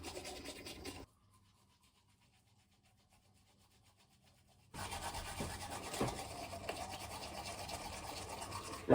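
Teeth are brushed with a toothbrush in a steady, close scrubbing rasp, broken by a few seconds of near silence before the brushing resumes louder.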